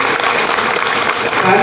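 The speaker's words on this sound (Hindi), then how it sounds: "अगर आपको ताली बजानी है तो जोर से बजाइए" Loud, dense applause from a large audience at a meeting with India's foreign minister S. Jaishankar, a brief sustained burst of many hands clapping together.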